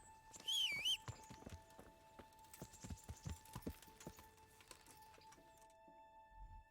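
Hooves clip-clop in a video game as a horse walks at a steady, moderately close pace, with a brief bright chime near the start and a soft thump at the end.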